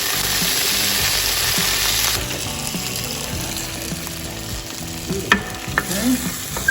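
Capers fry with anchovies in a pan for a puttanesca base, a close sizzle with scraping and clicking stir strokes that thins out and turns sparser toward the end.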